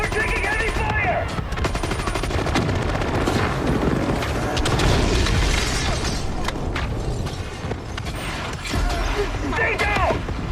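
Heavy gunfire in a video game shown at a press event, with bursts of automatic fire, booms and mechanical clatter mixed together continuously, while voices talk over the action.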